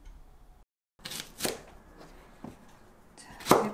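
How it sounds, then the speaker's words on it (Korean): A kitchen knife chops green onion (daepa) in a few sharp, separate cuts on a board, with short pauses between strokes and a louder final chop. "대파 썰어주시고요."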